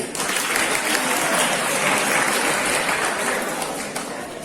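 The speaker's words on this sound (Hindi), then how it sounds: "जोरदार तालियां बजाइए।" Seminar audience at a college breaking into strong, sustained applause, a thick wash of clapping filling the hall for several seconds and tapering a little at the close.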